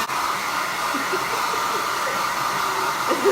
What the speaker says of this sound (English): Dry my hair.